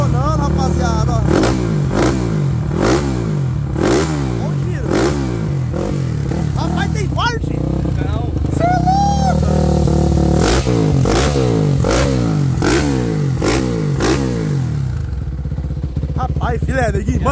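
A Honda Twister motorcycle with a 79 mm big-bore kit revs repeatedly up and down close by, its engine rising and falling in rhythmic bursts while someone talks over it.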